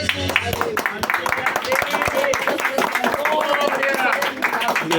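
A church congregation at a Portuguese-language vigil service claps in rhythm, sharp regular claps mixed with voices and music in a busy, reverberant hall.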